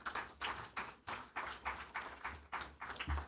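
An audience at a supplier development workshop claps after a speech, a steady run of rhythmic, fairly close claps with no talking over them.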